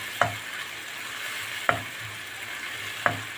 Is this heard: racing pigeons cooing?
no